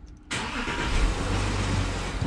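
A VW Touareg V8 car engine cranks and starts after a brief quiet moment, then settles into a steady, close, loud idle that runs to the end.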